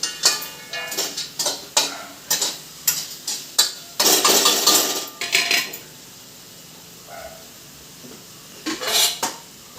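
A crab stir-fry is stirred in a metal pan, with a quick run of loud scraping clanks, a longer rough scrape, then a pause and a few more knocks, close by.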